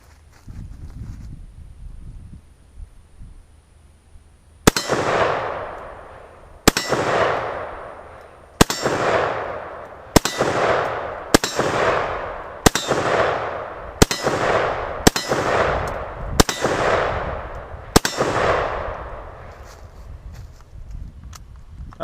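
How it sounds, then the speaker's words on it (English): A Russian SKS rifle fires ten rounds outdoors, each shot a loud sharp crack with a ringing tail, spaced roughly one to two seconds apart after a quiet opening. "I definitely did not load these 10 rounds just to not fire them."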